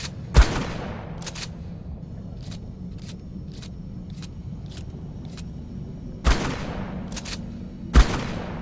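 Shotgun blasts in the video game ARK ring out with three sharp, loud booms spread across the clip, separated by lighter repeated clicks and clatter, with no talk.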